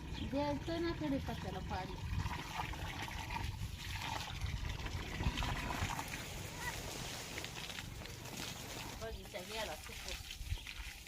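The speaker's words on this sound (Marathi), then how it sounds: "त्याला कडीपात्याला पाणी दे पुन्हा" Water pours onto a curry leaf plant in a home garden as a continuous soft trickle and splash, running steadily beneath people talking throughout.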